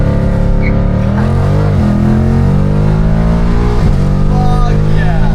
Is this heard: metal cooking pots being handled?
no